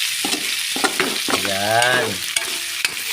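Food simmering with ginger in a pan is stirred, with sizzling and sharp spatula scrapes close by, while a voice briefly speaks and a tonal hum rises mid-way.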